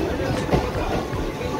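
A train on the Siliguri to Malbazar line gives a steady, close, continuous rumble and rattle from inside the carriage, with faint voices mixed in.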